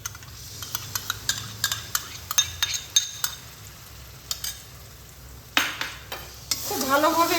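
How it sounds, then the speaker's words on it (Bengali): A spoon stirs whisked yogurt into hot fried spices in a pan for jackfruit kofta, making a series of light clinking scrapes at an uneven rhythm over a soft sizzle, with louder sizzling bursts near the end. "খুব ভালোভাবে এটাকে মিশিয়ে নিতে হবে মশলার সঙ্গে।"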